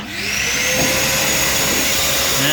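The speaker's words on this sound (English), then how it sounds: "I've reversed the flow of the vacuum onto a blow, and I'm blowing it out" A vacuum cleaner switched to blow mode roars steadily while blasting dust out of a Fiat 500's interior, a loud continuous whine with a slight shift in tone near the end.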